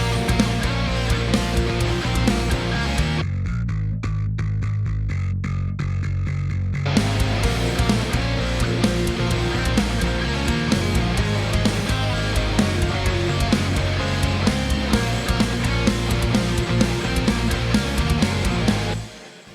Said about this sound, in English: I'm using the EZbass to play that, Jake's MIDI bass line